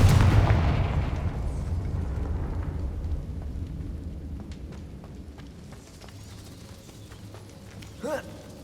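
A Confringo fire spell in Hogwarts Legacy goes off as a heavy booming blast that decays into a long rumbling tail, followed by faint crackles and a small sharp burst near the end.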